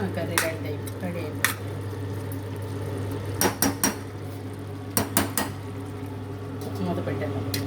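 Metal clatter of a lid set onto a cooking pot of goruchikkudukaya (cluster bean) curry, a few sharp clanks in quick bursts over a steady low stove hum, with a person talking in the background.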